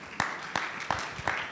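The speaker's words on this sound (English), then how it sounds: "Yes, we can clap them." A few slow, evenly spaced claps come from the room at a luxury conference, faint and brief rather than a full burst of audience applause.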